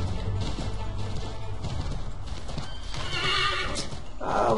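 Horse galloping in Assassin's Creed 3, steady hoofbeats building to a loud neigh and whinny near the end, with faint background game sounds.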